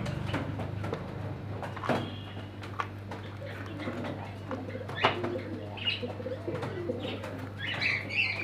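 Kagji pigeons in a Medinipur bird and aquarium shop give soft repeated coos, mixed with scattered chirps and occasional wing flutters, all close by against a low steady hum and with no talking.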